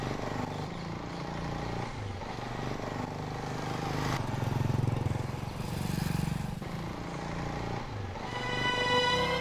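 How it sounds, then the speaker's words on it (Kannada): A motorcycle engine drones steadily as it rides, swelling louder in the middle with revving changes, then easing off before rising again at the end. "ಭರತ್, ಭರತ್, ಬೈಕ್ ನಿಲ್ಸೋ"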